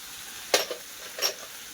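White sesame, coriander seeds and cumin frying in a pan for a potato rassa bhaji: two short, sharp sizzling crackles spaced apart over a quiet, steady background.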